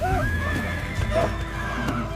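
A horse whinnies loudly twice, with rising and falling cries near the start and middle, amid the commotion of a dramatic savanna rescue of a stallion from a giant python, over constant low rumbling background noise.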